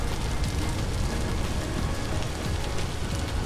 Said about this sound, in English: it is still pouring rain